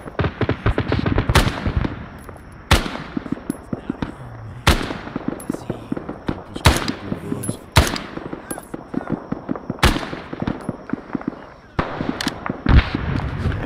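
Heavy battlefield gunfire in the Hill 881 Defense war video game, with grenade launcher explosions heard as loud booming blasts at irregular intervals among dense rattling bursts of automatic weapons, some voices underneath.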